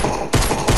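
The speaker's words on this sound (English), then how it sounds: "Bro, this pistol's a laser." Pistol gunfire in the Fortnite video game: two quick, sharp, loud shots in under a second.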